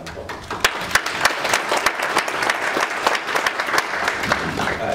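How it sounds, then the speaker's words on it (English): Audience applause fills a housing forum on affordable housing, a steady roomful of clapping hands with a few sharper claps standing out, close and sustained throughout. "Let's give him a round of applause."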